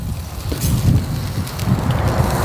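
Fat from a grilling fish drips onto a wood and charcoal fire outdoors, giving a close, continuous crackle and hiss with low roaring rumble, no talk.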